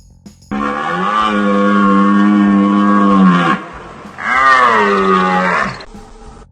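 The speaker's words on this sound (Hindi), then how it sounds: "ऐसे करता है हिरन।" A deer's call, two long, loud, drawn-out bellowing calls separated by a short gap, heard alone and up close.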